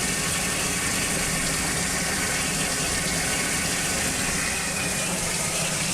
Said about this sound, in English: I'm gonna go ahead and do another water change quickly on one more tank